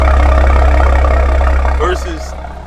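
A catless BMW M340i with a B58 engine rumbles at a steady loud idle, with deep low drone and engine texture, fading slightly toward the end as faint voices appear.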